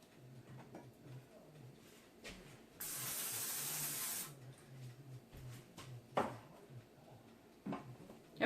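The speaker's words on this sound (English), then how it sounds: "I'm actually going to spray this little pan" Cooking spray hisses in one steady burst of about a second and a half onto a small pan, close and fairly soft, with quiet kitchen handling before and after.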